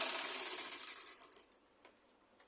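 A sewing machine stitches the side seam of an umbrella skirt, a quiet, fast mechanical whir that fades after a second or so, leaving faint clicks.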